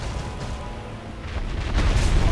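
The dragon Kalameet in Dark Souls unleashes a fire attack, heard as a deep rumbling blast that swells in loudness toward the end, with a roaring burst that rises sharply at the close.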